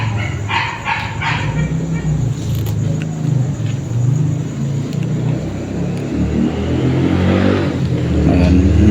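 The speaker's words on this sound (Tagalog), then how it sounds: "Naririnig yung mga tunog ng tricycle sa labas. Mga sasakyan." Motor traffic rumbles steadily outside an old mansion, with passing tricycles and other vehicles making a continuous low drone and engine hum, and a few sharp yips like a distant dog near the start.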